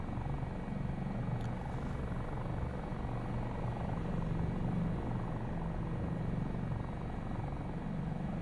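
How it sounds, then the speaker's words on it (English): A Dauphin helicopter in Microsoft Flight Simulator, a steady, dense rotor and turbine drone with a deep rhythmic thrum, loud and constant throughout with no talking. "It's as close as you can get to flying a Dauphin in Microsoft Flight Simulator."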